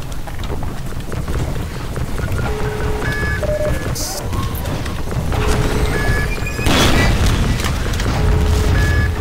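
An explosion goes off in the first-person shooter Half-Life 2: Episode Two: a loud, broad burst of blast noise amid rumbling game sound effects, scattered tonal beeps and a rushing, rain-like background.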